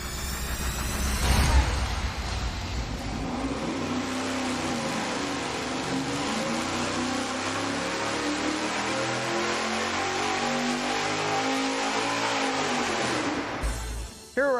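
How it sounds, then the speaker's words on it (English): A supercharged V8 fitted with 1 3/4 inch headers is run on an engine dyno, one long loud sustained pull with rising pitch, held for over ten seconds before cutting off abruptly. "Now we're gonna run the 1 3/4 inch header with the supercharger."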